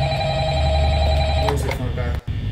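Telephone ringing in the horror video game Five Nights at Freddy's: Help Wanted, a steady repeating electronic ring held for about two seconds, loud and close, ending in a brief dropout.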